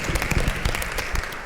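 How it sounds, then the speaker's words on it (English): A conference audience at a healthcare session claps briefly for a questioner, giving a short burst of dense, moderately loud applause. "Round of applause."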